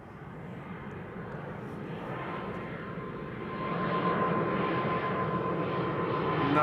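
An Air Baltic Airbus A220 departs from Amsterdam Schiphol's Kaagbaan runway 24, its jet engines a broad, steady roar that swells louder as it climbs away, heard alone without voices.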